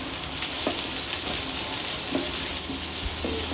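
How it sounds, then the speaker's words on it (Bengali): Onions sizzle and fry in a pan for a homestyle chicken stew, a continuous soft crackle with a few light scrapes of stirring, close and fairly quiet. "নাড়াচাড়া করে দেবো পেঁয়াজ"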